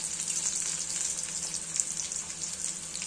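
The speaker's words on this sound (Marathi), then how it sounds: "आपली फोडणी तयार होत आहे।" A tempering of spices sizzles in oil in a pan, a bright, continuous frying hiss with small crackles, steady and fairly quiet, with no voices.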